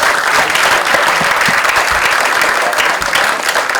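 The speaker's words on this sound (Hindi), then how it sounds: "क्या बात है, जोरदार तालियां हो जाए।" An audience at a film trailer launch claps loudly and continuously, a thick, even burst of applause lasting a few seconds with a few sharper hand claps standing out.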